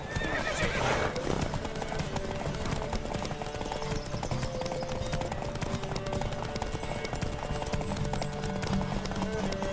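Horse galloping hard in a race in The Witcher 3, rapid rhythmic hoofbeats pounding continuously with a whinny near the start, over game music and ambient noise.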